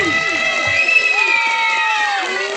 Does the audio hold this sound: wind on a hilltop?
no